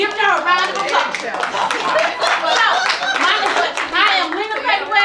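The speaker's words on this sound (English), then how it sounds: "Give her a round of applause" Audience claps for a speaker, brisk hand claps running steadily beneath lively overlapping voices and cheering throughout.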